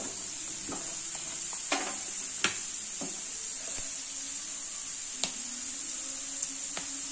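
Peanuts in the last batch of masala peanuts frying in oil give a steady, even sizzle with occasional soft clicks of stirring, no talking.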